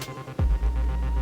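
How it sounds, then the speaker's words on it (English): A stand mixer whirs up to a steady, loud hum as it runs with carrot cake batter, starting abruptly after a brief quieter moment and droning on without any talk. "we are going to add that mixture into the wet ingredients in our stand-up mixer"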